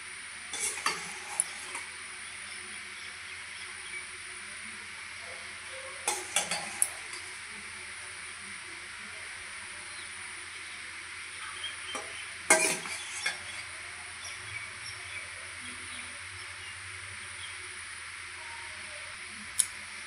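Chicken pieces and gravy for a chicken biryani being spooned and stirred into a pot with ghee, giving soft stirring and gentle sizzling with a few brief clinks of a utensil against the pot. No one talks.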